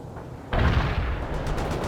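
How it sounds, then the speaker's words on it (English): Grenades launched at enemy troops in the strategy game World in Conflict, heard as a sudden heavy blast that breaks in after a quieter rumble, then a sustained noisy roar with faint crackling. "Launch your grenades now! Fire some grenades at the enemy!"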